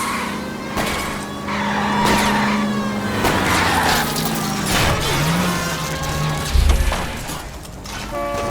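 Cars in a chase in the video game L.A. Noire, with roaring engines, squealing tires and a heavy thump of one car ramming another, loud and close over a mechanical game soundtrack.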